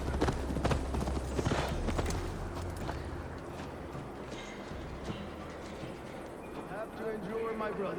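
Horse hooves clop in a steady riding rhythm in Assassin's Creed Valhalla, heard close under voices talking over them.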